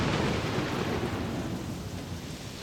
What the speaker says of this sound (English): And I mean dumping rain.